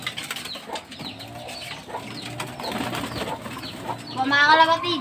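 Pigeons, including long-tailed birds, cooing and fluttering near at hand, with soft wing flaps and bird calls rising in a busier burst toward the end.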